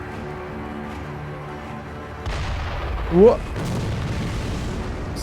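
A single heavy cannon blast booms out in Sekiro: Shadows Die Twice, a sudden deep impact amid rumbling game ambience, with a startled voice exclaiming around it.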